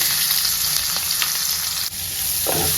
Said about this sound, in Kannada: ಇಲ್ಲಿ ಎಣ್ಣೆ ಕಾದಿದೆ, ಗ್ರೇಟ್. ಇದಕ್ಕೆ ಗರಂ ಮಸಾಲ ಆ್ಯಂಡ್ ಒಂಚೂರು ಈರುಳ್ಳಿ